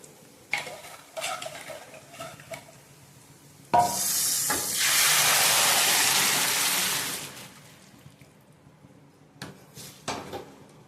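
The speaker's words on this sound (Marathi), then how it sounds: "तर डाळ आपण कुकरमध्ये जी शिजवून घेतली होती ना, ती फोडणी द्यायची" Pressure-cooked black urad dal poured into hot spiced oil, a sudden loud hissing surge lasting several seconds and fading, framed by stirring clinks and scrapes of utensils, no talk.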